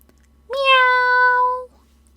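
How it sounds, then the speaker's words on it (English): A single drawn-out cat meow, clear and close against near silence, rising slightly then holding steady for about a second before cutting off. "Meow!"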